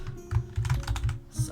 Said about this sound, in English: let me bring the keyboard back out.